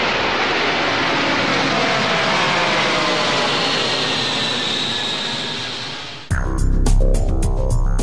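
Antonov An-124 strategic airlifter engines, a loud sustained jet roar that fades slightly before an abrupt cut to a different, rhythmic mechanical sound near the end.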